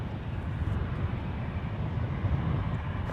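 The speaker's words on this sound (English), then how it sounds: "This departure on runway 1 right is Amazon Air Flight 3010, operated by Sun Country Airlines, departing to Fort Worth" An 18-year-old Amazon Air Boeing 737-800 freighter departs runway 1 right at San Francisco International Airport, giving a steady, broad jet roar at moderate distance with some wind rumble and no voices.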